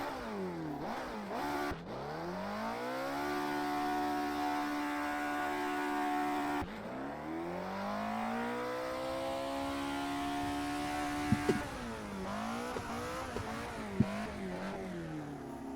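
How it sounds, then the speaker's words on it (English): A rotary-engined car in the racing game Assetto Corsa revs and accelerates through several gear changes, its buzzy high-pitched whine rising and falling steadily and loud throughout. "Sounds like it has a rotary engine."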